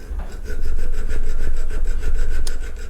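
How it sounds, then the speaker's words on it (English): Hand file working flats onto a spinning motorcycle foot lever tip held in a lathe running in low gear, giving a steady close rasping scrape with rhythmic strokes over a low machine hum. "I filed the flats, 8mm spanner fits on there."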